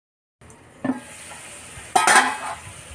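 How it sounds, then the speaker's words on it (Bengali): Potatoes frying in a pan, a faint sizzle after a silent start, then a spatula scrape and a louder bright crackling burst of stirring near the end. "আলু তো আমার লাল লাল করে ভাজা হয়ে গেছে।"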